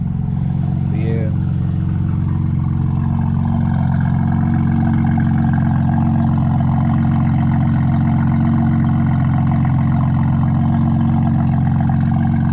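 A BMW M2 with a catless downpipe and tune idles with a steady, loud, deep drone throughout, unchanging and close, with a brief voice early on.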